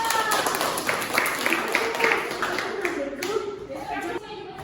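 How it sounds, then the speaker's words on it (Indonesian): Seventh-grade pupils in a classroom clap their hands together, a lively mix of quick claps and patter with children's voices chattering underneath, fairly close and loud. "Tepuk tangan dong."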